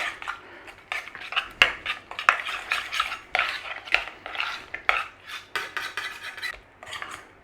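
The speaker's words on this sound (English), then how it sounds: "Stir it all in" Cranberry sauce with cinnamon and vanilla stirred in a pan, a spoon scraping and clinking against the metal in quick irregular strokes, near and fairly loud, with no talking.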